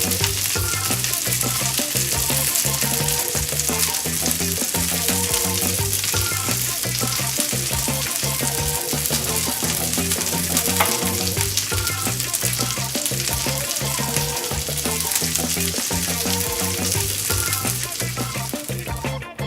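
Sausages sizzle steadily in a frying pan, a dense, continuous crackle and hiss that stays loud and even throughout with no voices.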